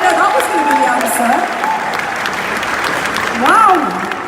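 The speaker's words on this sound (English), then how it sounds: "round of applause" A crowd applauding steadily, with voices talking and calling out over the clapping.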